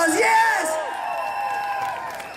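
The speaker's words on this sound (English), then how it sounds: "Give yourselves a round of applause!" A protest crowd in Waterford cheers and whoops, loud and close, with voices rising at the start and then easing into a sustained, broad roar, with faint clapping underneath.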